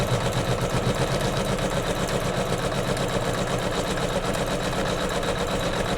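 A sewing machine quilts the inner border of a Kimberbell Sweet Land of Liberty pillow, running in a continuous, even, rapid mechanical chatter with a steady motor drone throughout, no talking.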